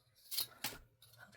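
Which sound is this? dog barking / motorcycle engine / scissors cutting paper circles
scissors cutting paper circles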